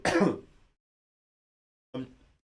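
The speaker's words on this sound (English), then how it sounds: "it's giving me a cough" A single harsh throat clearing, followed after a pause by a shorter, quieter cough, with silence in between.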